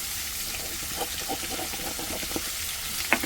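Chopped okra frying in a pan, a steady close sizzle and crackle with a few soft clinks and stirring taps from the cookware, and no talk over it.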